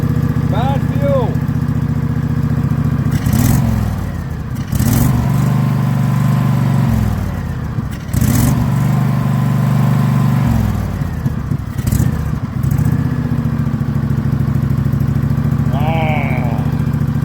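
A 25-year-old V-twin lawn tractor engine runs steadily with a throbbing low idle and a few brief rev bumps, loud and close, while people talk over it.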